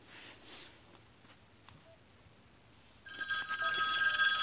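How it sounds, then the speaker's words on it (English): A telephone starts ringing after a quiet stretch, a bright, insistent electronic ring that continues to the end, from an animated chicken series. "Oh, my phone is ringing."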